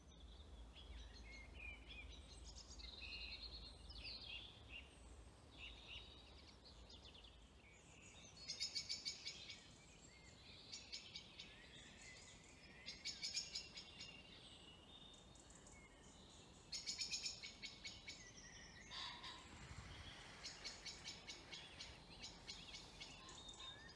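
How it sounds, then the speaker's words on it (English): Evening forest birdsong drifts in faint and distant, scattered chirps and trills rising over a soft, constant insect and cricket hum as daytime gives way to nighttime. "All the birds singing their nighttime song."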